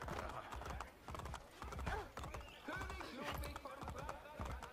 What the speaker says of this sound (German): jetzt habe ich mein Pferd gerufen